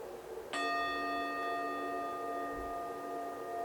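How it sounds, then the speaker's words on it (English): A meditation bell is struck once and left to ring, its clear tone sustaining and slowly fading in a quiet room with no voices. "we're going to go ahead and start and end today with the sound of the bell"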